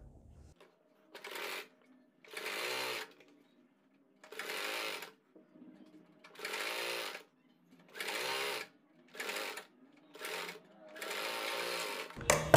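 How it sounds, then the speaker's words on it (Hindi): Sewing machine stitching a pattern onto a kurti, with about ten bursts of rapid mechanical chatter separated by short quiet pauses, close and clear. "1/2 इंच का मार्जिन लेते हुए सिलाई से इसको अटैच कर देना होगा।"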